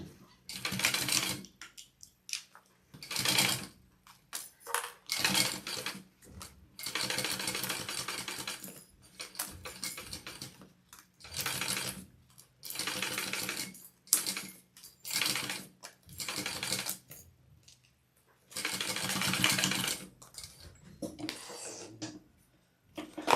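A Juki cylinder-arm sewing machine bastes pieces of a shoulder bag together, running in repeated loud, rattling mechanical bursts of one to two seconds, separated by short quiet gaps.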